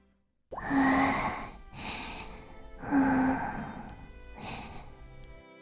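Slow, soft breaths of a sleeping woman drawn in and let out, four long exhales in an even rhythm, close and quiet with no talking.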